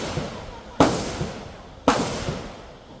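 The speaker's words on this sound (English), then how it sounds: "There was gunfire here, the sound of which could be heard throughout the forest." Two sharp gunshot-like cracks in a Vietnamese forest, spaced about a second apart, each trailing off in a long rolling echo through the trees.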